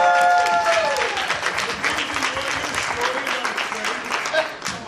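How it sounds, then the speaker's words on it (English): Dense applause from an improv comedy audience, steady clapping that starts strong and gradually thins out over a few seconds, with a tone or voice fading in the first moment. "Give them all a round of applause."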